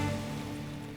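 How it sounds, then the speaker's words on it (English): Rain falling during a summer storm at a campsite in Allegany, a dense steady wash of drops with no break. "And here comes the rain again."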